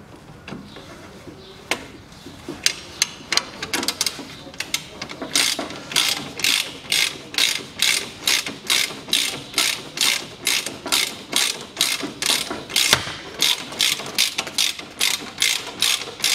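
A hand ratchet tightens the bolt on the lower steering shaft of a Land Rover Discovery 3, giving a long run of crisp, close, evenly paced clicks that grow more regular and steady as the bolt draws in.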